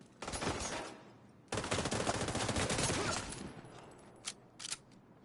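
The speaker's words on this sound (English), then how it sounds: "Are you shooting at me?" Video game gunfire crackles in two dense, rapid bursts, the second longer and louder, followed by a couple of sharp isolated shots near the end, close and unaccompanied by speech.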